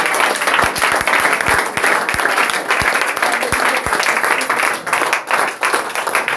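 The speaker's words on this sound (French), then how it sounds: "Applaudissons pour la direction." An audience at a prophetic church evening in Côte d'Ivoire applauds, dense sustained clapping throughout, loud and close, with a few heavier thumps mixed in.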